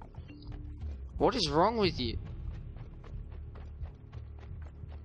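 Regular hoofbeats of a horse in the video game Assassin's Creed 2 clop along at a steady trot under a shouted question, repeating evenly through the whole stretch.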